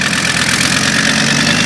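A 5-cylinder Mercedes turbo diesel engine swapped into a Nissan GTR idles steadily, a close, loud, rough mechanical rumble with a continuous knocking diesel texture and no talking.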